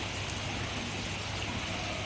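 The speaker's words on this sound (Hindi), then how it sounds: "ये इस टाइम की पहला मानसून है।" Steady rain from the first monsoon of summer pours down in a dense, even hiss, close and constant, with no talking.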